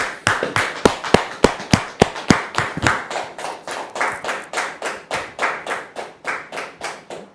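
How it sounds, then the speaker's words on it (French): Rhythmic clapping from a studio audience on a French-language talk show as a guest, Dame Hélène, is welcomed, steady sharp claps building into denser applause, loud and close, with no talk over it. "Dame Hélène, sous vos applaudissements, s'il vous plaît"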